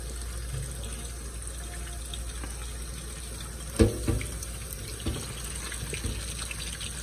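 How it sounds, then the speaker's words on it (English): A kitchen tap runs cold water over cooked green beans in a steady rushing stream. A couple of brief clunks and splashes come midway. "I'm just gonna run cold water on them."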